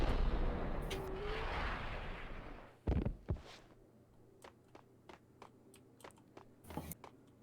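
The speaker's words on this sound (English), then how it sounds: "her sniper rifle rules" Sniper rifle gunfire in the video game Max Payne 2 cracks out as a heavy boom after a rumbling stretch, followed by a string of quieter, evenly spaced shots with no talk over them.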